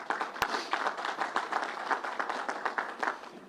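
A crowd at a COVID-19 vaccination event gives a round of applause for first responders who rescued horses; the clapping is moderately loud and fairly sparse, with a few sharp individual claps standing out.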